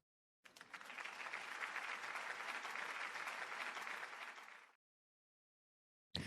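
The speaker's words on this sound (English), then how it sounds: "But applause for Namjoon." Loud, sustained applause from a live audience, dense even clapping that holds steady for about four seconds before stopping abruptly, followed by silence.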